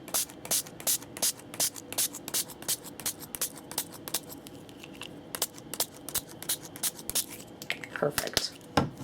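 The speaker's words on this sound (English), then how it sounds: "I'm going to give this a really nice spray" Quick repeated spray-bottle bursts of Opal Seal Oats stain misted onto fabric on a spray mat, a fast irregular run of sharp hissy pumps, close and fairly loud, growing denser toward the end.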